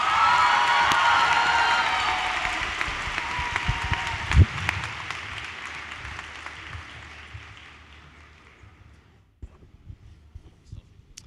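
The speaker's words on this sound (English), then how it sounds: "join me in another round of applause for our incredible class marshals, Josh Koifman and Harry Weiss" Graduation crowd applauding and cheering for the class marshals at a high school commencement, a broad sustained wash of clapping with whoops and a sharp thump near the middle, slowly fading out before scattered claps near the end.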